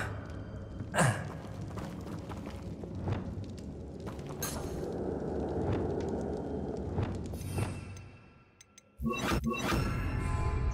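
A Depulso spell cast in the Hogwarts Legacy video game, with a sharp whooshing burst early on over a dense, rumbling magical hiss. The hiss briefly dies down before a loud, bright second blast near the end.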